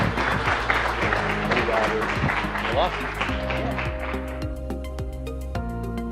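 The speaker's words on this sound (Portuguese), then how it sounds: "Uma salva de palmas para Guilherme Costa e Silva" An audience at a lecture on technological innovation applauds, a dense wash of clapping that fades over several seconds. Steady tones and a voice sit under the applause as it thins out.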